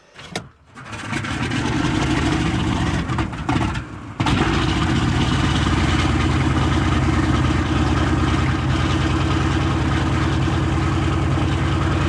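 A B-17 Flying Fortress radial engine cranks, coughs and catches, then settles into a loud, steady, rumbling idle close by, with a brief dip before the run evens out.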